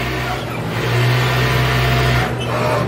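Overlock sewing machine with four threads and two needles stitching a shoulder seam in a garment tailoring shop, a steady close motor whir that swells louder midway and then eases off.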